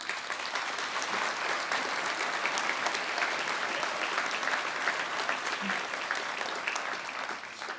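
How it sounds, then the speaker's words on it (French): Steady, dense applause from a large audience at a mayor's New Year greetings ceremony, honoring the town's municipal staff; loud and continuous throughout without letup. "merci de les applaudir"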